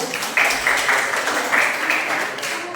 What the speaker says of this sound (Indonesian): Kita beri aplaus dulu untuk kelompok satu.